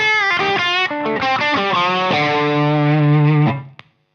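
Electric guitar played through an ENGL amp on its red channel, distortion cranked about three-quarters with an Analogman King of Tone pedal in front, a short distorted phrase of notes ending on a sustained ringing note, then cut off.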